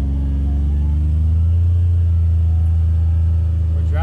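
A car driving along a ranch road in hot South Texas country, a loud steady low engine rumble and road drone close inside the cabin, with a soft rising tone at the end.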